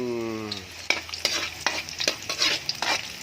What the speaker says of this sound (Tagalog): Maggisa tayo ng karne.